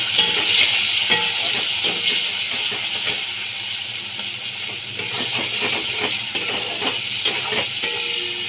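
Onions sizzling in hot oil with whole cumin seeds and a dried chili, a steady broadband frying hiss with small crackles and occasional stirring knocks, close and continuous with no talk.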